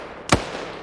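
A single sharp gunshot in the Opium-themed video game, one brief loud crack that decays quickly into quiet background.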